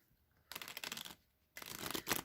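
A tarot deck gets shuffled in two quick bursts of crisp, riffling card noise, close and fairly quiet, separated by a short pause.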